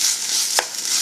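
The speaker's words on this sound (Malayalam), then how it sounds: "ഇനി ഇതിലേക്ക് നമ്മൾ അരച്ച് വെച്ചേക്കുന്ന അരപ്പ് ചേർക്കാം. അപ്പോൾ അരപ്പ് ഞാൻ ചേർത്തിട്ടുണ്ടോ ഒന്ന് ഇളക്കി കൊടുക്കുക." Ground paste being stirred into browned onions in a pan, a soft continuous sizzle broken by a single quick scrape of the spoon midway; no voices.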